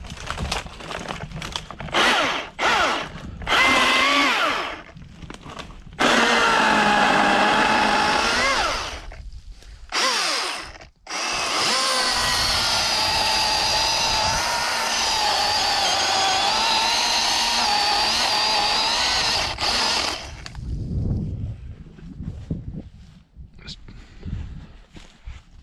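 A Milwaukee M18 battery chainsaw cuts wood on a farm, whirring in short bursts before a long sustained cutting run, close and loud, with speech in places.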